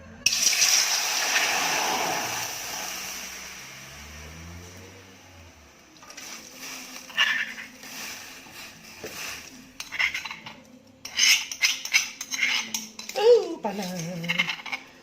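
Pounded spice paste for a Malay pineapple and salted fish coconut gulai is tipped into a hot pot and stirred, giving a loud opening sizzle that fades, then scattered clinks and scrapes of a utensil against the pot.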